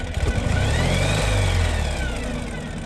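A 2017 Ural Gear Up 2WD sidecar motorcycle engine revs up with a rising whine, holds briefly, then settles back down to a steady, even idle, close and loud.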